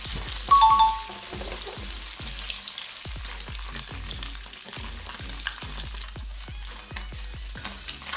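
Tofu frying in hot oil until crisp and golden gives a steady crackling sizzle, with repeated soft knocks of a utensil turning the pieces and a short metallic ding near the start.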